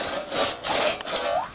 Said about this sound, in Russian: У тебя пила вот так вот проходит